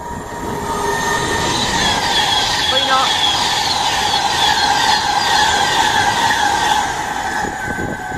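Pendolino passenger train roaring through Milton Keynes Central station at speed, a loud sustained rush of wheels and rail noise with squealing tones, while a person talks close by.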